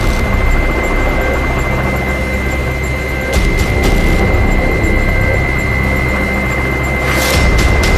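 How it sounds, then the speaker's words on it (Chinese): A firefighting helicopter carrying a water bucket, its engine and rotor droning in a loud, steady hum with a constant whine and occasional rushing bursts. "直升机取水救援是通过机载吊桶先取水再灭火。"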